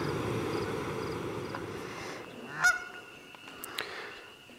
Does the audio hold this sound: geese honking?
yes